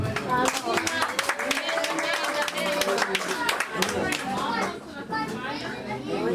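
Clapping from a gathered crowd at a Rwandan baby shower, a lively burst of many hands close by mixed with children's voices and chatter, tapering off toward the end.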